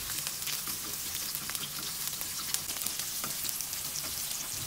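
Onion and garlic sautéing in hot oil for chicken adobo with potatoes, giving a dense, steady sizzling crackle close up with no talking.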